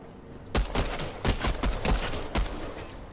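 Rapid gunfire in Fortnite, a string of sharp close shots in quick irregular bursts over a low background hum.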